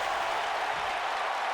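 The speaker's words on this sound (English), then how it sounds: "Crowd going mild, actually." Wrestling crowd at a J1 Climax show cheering and applauding, a dense steady wash of clapping and crowd noise, loud and continuous throughout.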